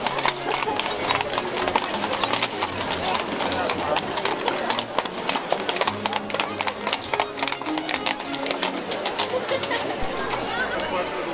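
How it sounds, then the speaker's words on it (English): Horse-drawn carriage hooves clip-clop steadily over the cobbled streets of Prague's Old Town, close and continuous, with crowd chatter and street bustle throughout. "you can hire a horse and carriage for a leisurely tour around the town area"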